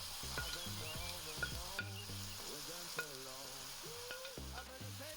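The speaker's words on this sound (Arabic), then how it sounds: "نضيفو بصلة تقلى، كنضيفو عليها الزيت العود وكنحركو مزيان حتى تقلى مزيان" Onion fries in oil in a pan while a utensil stirs it, giving a steady close sizzle with repeated scraping strokes against the pan, for potato dishes.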